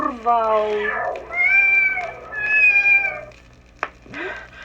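A cat meows several times in drawn-out, wavering cries, with a sharp click and a brief low sound near the end.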